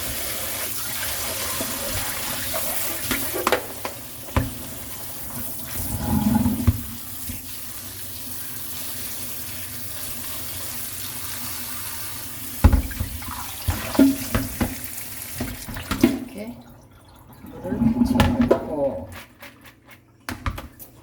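Water from a tap runs into a pot in a kitchen in several bursts, a rushing hiss that stops and restarts, with quieter gaps and some handling noise in between.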